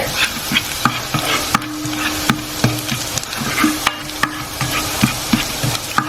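Chunky pieces of garlic fry in butter in a pan for garlic butter chicken, a steady sizzle broken by repeated scraping strokes of stirring at a close, fairly loud level, with no talking.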